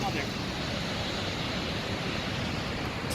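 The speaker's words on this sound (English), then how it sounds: "there's a waterfall" Rushing white-water rapids and a waterfall at Yellowstone give off a constant, dense roar of falling water, steady and fairly loud with no break from start to finish.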